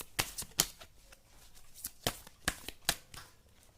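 Tarot guidance cards shuffled by hand, a string of sharp riffling bursts at an irregular pace, close and crisp with no talking.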